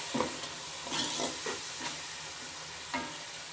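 Ground tomato paste cooking in a pan for chicken kabsa, stirred with a spoon: soft scraping strokes and a low sizzle, a few distinct stirs spread through the moment, close and fairly quiet, with no talking.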